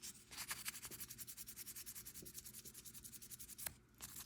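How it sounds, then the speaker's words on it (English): Hand polishing of a sterling silver moon brooch, likely from Mexico: a steady run of quick, close rubbing strokes in a continuous rhythm, with a couple of sharper scrapes and no talk. "This one needs some polishing."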